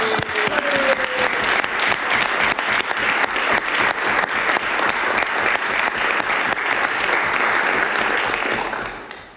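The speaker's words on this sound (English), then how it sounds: "I'd like you to give them a round of applause." Loud, sustained applause from a large crowd at a budget address in a legislature, steady clapping throughout that tapers off at the very end.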